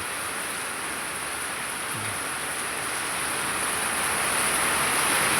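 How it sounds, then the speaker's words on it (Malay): Heavy rain falls steadily in a dense, hissing wash, gradually swelling a little louder, with no voices over it. "Uh, Hujan."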